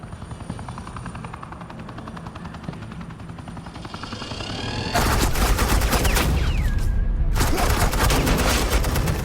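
Sustained automatic suppressing gunfire in Batman: The Telltale Series, a dense rattling burst that starts abruptly midway and continues loud and steady over a helicopter-like rotor drone.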